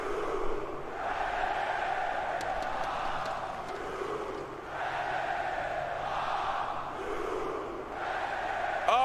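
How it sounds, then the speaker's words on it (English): A large esports arena crowd roars and cheers continuously, swelling in waves with loud shouting throughout, no single voice standing out. "this is the greatest crowd in the history of esports"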